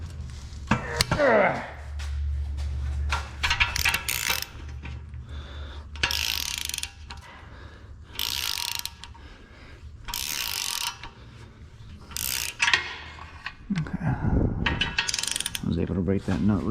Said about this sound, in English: 15 millimeter socket for these nuts.